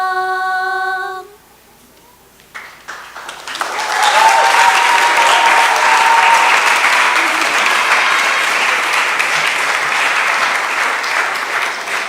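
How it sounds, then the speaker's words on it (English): After a short musical tone and a brief pause, a large crowd at a junior school graduation ceremony breaks into loud, sustained applause that continues steadily throughout. "A round of applause again for Micaiah and Jazion."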